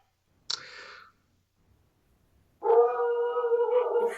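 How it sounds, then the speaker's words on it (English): Dogs howl in the background, first a brief high yelp, then after a pause a sustained, wavering howl that rises clearly above the quiet room. "Even the dogs are intimidated by this."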